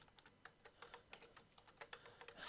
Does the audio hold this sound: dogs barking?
no